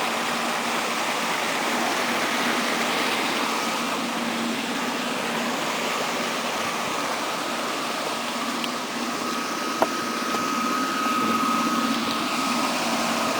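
Water flows continuously into a cooling and oxygenation pool at a pumping station, a steady rushing wash with a faint mechanical hum underneath, unchanging throughout.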